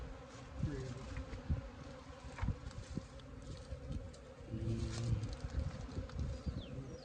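Honey bees swarm and hum around an opened hive during the year's first inspection, a steady, close buzzing drone with individual insects passing near, plus occasional soft knocks and handling noises.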